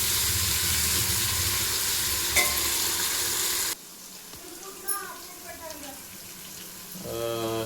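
Dill leaves and vegetables frying in a pan for vegetable pulao: a loud dense sizzle that drops abruptly to a quieter hiss midway, with faint tonal voice-like sounds over the softer frying.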